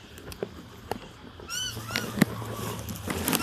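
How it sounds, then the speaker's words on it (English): Birds that are snatching food give several honking, goose-like calls over outdoor background noise. A couple of rising calls stand out in the middle of the clip, at moderate distance. "The birds are taking everything."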